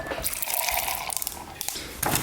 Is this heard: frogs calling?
no